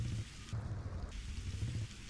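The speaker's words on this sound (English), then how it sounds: "It's raining." In-game rain from The Sims 2 Castaway, a steady soft hiss of rainfall with a low rumbling undertone like distant thunder, continuous throughout and heard alone without talk.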